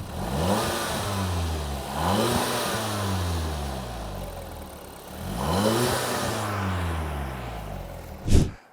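A stock car engine revving in repeated bursts, three rising and falling throttle blips over a steady idle, close and loud, ending with a sharp brief noise.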